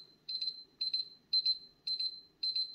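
A kitchen timer beeps insistently, five evenly spaced bursts of rapid high-pitched pulses separated by short gaps, clear and moderately loud over a quiet room.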